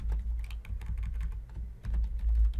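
Rapid clicking keystrokes on a computer keyboard while HTML code is typed, a steady fast patter of close, crisp taps over a low background hum, with a brief pause near the middle.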